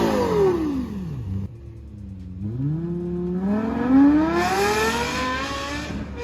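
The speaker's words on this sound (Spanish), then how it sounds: "el Lexus LFA, con un motor de 10 cilindros," A Lexus LFA V10 engine blips and revs, pitch dropping then soaring to a shrill high wail, loud and close, with no talking.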